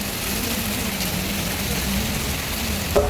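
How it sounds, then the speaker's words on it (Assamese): A steady, dense hiss of heavy rain fills the whole clip, broad and constant, with a faint low rumble underneath. "কি ডাঙৰ বৰষুণ দিছে মানে এইফালে"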